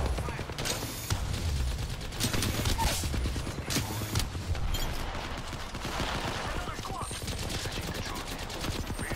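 Charge rifle shots and rapid gunfire in an Apex Legends match, dense bursts of cracks and clatter filling the whole stretch, with players talking over the fighting.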